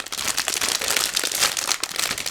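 A thin plastic bag from a Zvezda 1/35 Typhoon-K model kit is opened and handled close up, giving a continuous, dense, crackling crinkle that keeps rising and falling without pause and with no voices.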